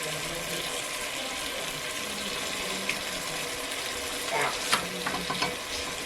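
Chicken chilli sizzles in a pan after soy sauce is poured in, a constant soft frying hiss that gives way near the end to a few close clattering knocks and scrapes of stirring.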